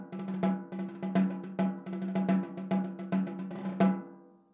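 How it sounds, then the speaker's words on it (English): A snare drum with the snares switched off, giving a tenor drum tone: about a dozen clear, resonant strokes in an even pattern, each with a ringing low body and no buzz, close and alone. "When I turn the snares off, you get what's called a tenor drum sound,"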